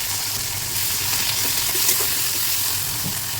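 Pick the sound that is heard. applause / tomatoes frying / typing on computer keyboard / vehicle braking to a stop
tomatoes frying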